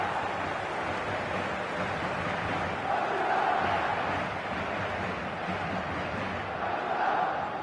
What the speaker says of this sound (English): the crowd have tried to spark some excitement, but to no avail